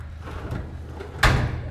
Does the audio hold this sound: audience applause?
no